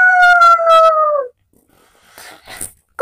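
Cartoon dog from Tom and Jerry gives a loud, drawn-out falling howl, then after a short silence come a few brief scuffling thumps and clatters.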